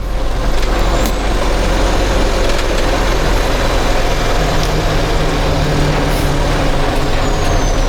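A large bus idles ahead on a road in slow traffic with a steady, loud diesel rumble throughout, broadband road and engine noise, and faint high hisses like air brakes.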